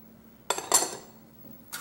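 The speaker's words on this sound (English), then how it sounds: "Now I'm gonna put some fresh green onion that we gonna put on that and stir that in" A utensil clinks and scrapes a few times in a pot while green onion is stirred into eggplant jambalaya, with two quick metallic taps close together followed by a softer scrape, fairly quiet and close.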